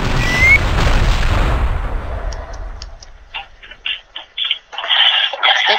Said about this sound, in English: Put some plastic explosives and the detonator. Ah, shift click to detonate.